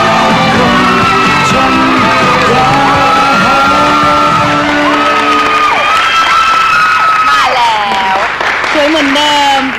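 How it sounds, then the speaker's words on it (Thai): A Thai television studio audience applauds and cheers loudly to welcome an actress, with sustained clapping, yells and whoops over the host's voice throughout. "ขอเสียงปรบมือต้อนรับ"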